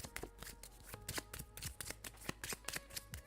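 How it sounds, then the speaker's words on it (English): Kinfire Delve game cards are shuffled by hand, a rapid run of crisp riffling snaps and flutters in quick bursts, close and fairly quiet, with no talk. "then I have to shuffle these cards again."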